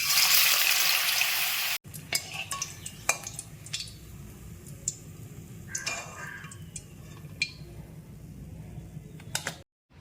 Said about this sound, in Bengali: এবার এই কলাগুলোকে এই ব্যাটারে চুবিয়ে আমি ভেজে নিচ্ছি এইভাবে